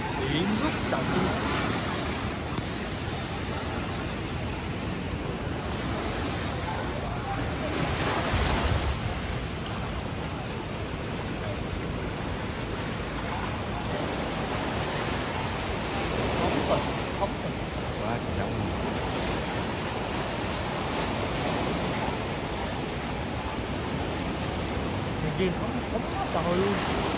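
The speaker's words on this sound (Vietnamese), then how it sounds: "Biển rất động luôn." Rough, choppy sea off Phu Quoc island, heard as steady broadband surf and wind roar with surging swells around the microphone; a faint engine hum under it suggests a boat.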